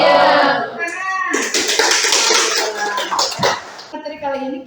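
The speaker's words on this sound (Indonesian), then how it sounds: "Tepuk tangan." A classroom of students claps hands together in a burst of loud, dense applause lasting several seconds, following a teacher's voice during an Islamic lesson on obligatory and voluntary fasting.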